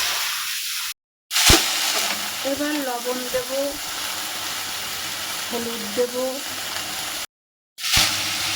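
Taro stolons frying in tempered oil, a steady soft sizzle running throughout while someone speaks over it at intervals, with a couple of brief clinks and short gaps.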